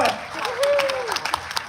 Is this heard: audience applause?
yes